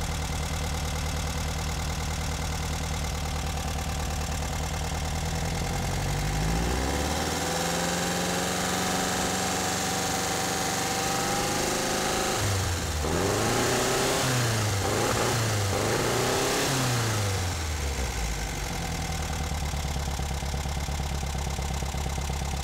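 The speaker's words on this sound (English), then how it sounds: "then rev the engine up again to check the advanced timing" A car engine fitted with a 009 distributor idles steadily, then is revved up twice during an ignition-timing check, its pitch rising and falling in loud surges before settling back to a steady idle.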